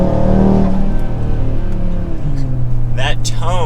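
An Audi RS3 with an aftermarket full exhaust pulls away in performance mode, its five-cylinder engine droning loudly and rising in pitch up close, and someone speaks briefly near the end.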